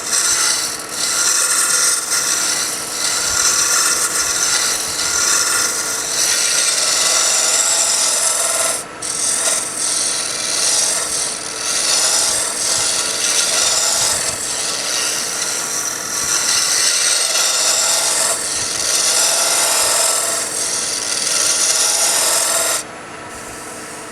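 A peppermill blank spins on a wood lathe while a cutting tool rubs and scrapes the wood, a continuous loud rasping hiss that runs steadily, then briefly cuts out near the end; no voices.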